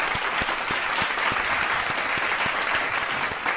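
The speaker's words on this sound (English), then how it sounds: "Everyone, let's give a round of applause." A studio audience breaks into a full round of applause, dense clapping with a few sharper individual claps standing out, steady and close throughout before cutting off.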